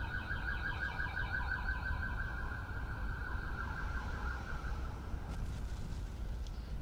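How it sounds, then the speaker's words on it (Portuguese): Wailing alarm-like siren in Total War: Warhammer II, a looping two-tone warble held steady and fairly faint over a low rumbling game backdrop, then fading out near the end. "Seja lá o que foi essa sirene"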